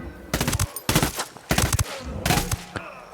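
Rapid gunfire bursts from soldiers and snipers in the video game Ghost Recon Wildlands, four loud clusters of automatic shots with brief gaps between, plus a faint single report near the end.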